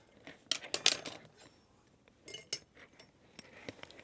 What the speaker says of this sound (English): So out goes the ice.